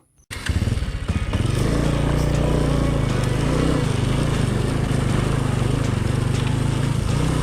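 Honda Wave motorcycle ridden along a dirt road, its small engine droning loudly and steadily from start to finish with a rattly, clattering edge.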